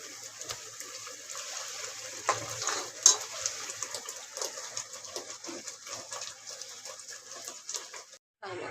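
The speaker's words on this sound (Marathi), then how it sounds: "तेल सुटलं की त्यात आपण उकडलेलं मटण त्यात टाकूया" Boiled mutton frying in hot oil for a mutton rassa, a steady close sizzle with bubbling and crackle, interrupted by occasional stirring scrapes and clanks of a spoon in the pan.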